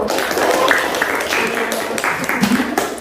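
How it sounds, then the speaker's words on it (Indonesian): Classroom applause for a student group during a lesson, a steady patter of clapping from many pupils lasting a few seconds, with voices mixed in. "tepuk tangan dulu untuk kelompok 1."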